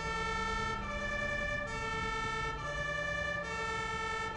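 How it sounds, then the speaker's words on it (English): Ambulance siren in the game Ambulance Simulator, a loud steady wailing siren cycling repeatedly with engine rumble underneath, no talk. "Ooh, ah, we want siren."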